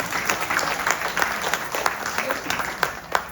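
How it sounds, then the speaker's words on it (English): Audience applause at a family yagna gathering, many hands clapping at close range with some sharper individual claps standing out, steady for the whole stretch. "so please give him a big round of applause."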